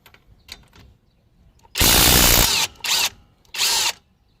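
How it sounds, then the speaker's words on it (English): A Kobalt 24V right angle impact wrench hammers on lug nuts in three loud, close bursts: one long rattling run, then two shorter ones, with quiet pauses between them. "Kobalt right angle impact versus lug nuts."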